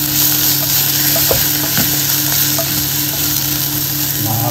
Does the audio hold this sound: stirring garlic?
yes